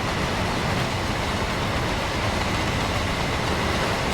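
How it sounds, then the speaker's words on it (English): In a train simulator, a short intermodal freight train with basic wagons pulls away, producing a steady, broad rumble and rolling noise at moderate level with no talk. "Off it goes. This little intermodal service."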